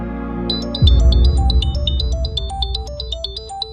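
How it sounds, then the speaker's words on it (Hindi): A phone ringtone plays a loud, bright, repeating electronic melody of quick high notes for a few seconds, close and clear, with no talking. "मीठी का फोन"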